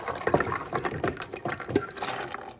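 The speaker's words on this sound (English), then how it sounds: "Now today I'm just gonna add those peas" Soaked peas tipped into a pot together with their garlic-flavoured soaking water while making Jamaican rice and peas, a close, continuous splashing pour with gurgling liquid and small knocks throughout.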